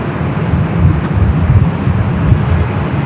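An airliner rolls for takeoff on the south runway at LAX, a broad, steady roar heard from a distance with wind buffeting the microphone.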